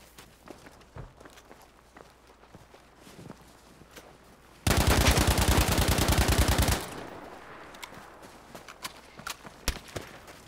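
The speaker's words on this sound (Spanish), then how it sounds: "Me acaban de disparar." Gunfire in the video game Firestorm: a long, dense burst of rapid automatic shots lasting about two seconds, loud and close, surrounded by scattered footsteps and sporadic single cracks before and after.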